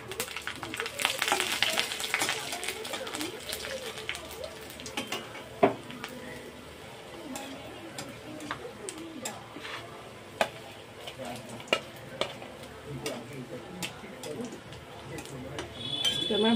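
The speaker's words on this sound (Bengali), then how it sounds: "কয়েকটা গোটা লঙ্কা, কয়েক টুকরো রসুনকে ভেজে নেব।" Whole green chillies and garlic pieces sizzle steadily in a hot pan, with occasional utensil clinks and stirring scrapes throughout.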